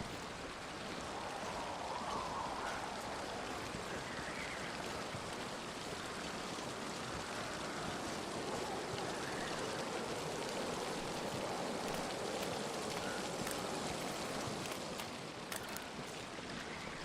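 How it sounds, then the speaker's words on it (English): A waterfall along Route 1 in a game pours in a steady, broadband rush of falling water, constant and fairly loud throughout with no pauses or talking. "Route 1 waterfall."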